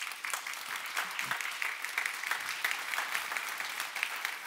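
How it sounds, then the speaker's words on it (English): An audience at a conference panel applauds steadily, a dense patter of clapping from many hands that holds at an even level. "Give them a round of applause"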